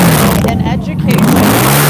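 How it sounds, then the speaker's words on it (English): Vehicle engines rev during a Halloween parade in Bettendorf, Iowa, a steady loud motor drone with rising pitch sweeps, heard up close amid crowd noise and a person talking. "right now we've got a couple guys revving up"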